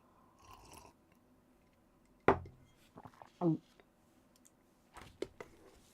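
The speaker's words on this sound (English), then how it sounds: "Slurp of coffee time." Coffee is slurped close to the mic in a quiet room: a sharp sudden slurp followed a second later by a second, shorter sip, with faint murmurs and small mouth clicks around them.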